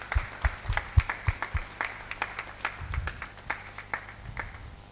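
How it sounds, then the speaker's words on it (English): Sparse audience clapping at a health investment summit, individual claps popping out unevenly and fairly quiet, with a low rumble of room noise beneath. "Can we clap our hand for him?"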